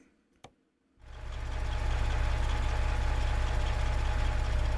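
A 12.7 truck engine in the video game American Truck Simulator starts after a brief click, then settles into a loud, steady, low diesel drone that runs uninterrupted to the end.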